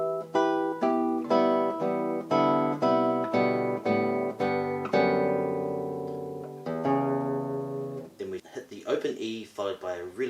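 Classical guitar plays the open-string sequence from Villa-Lobos Prelude No. 1, a steady run of ringing plucked notes with sustained bass, close and clear, slowing near the end before a few softer, busier notes.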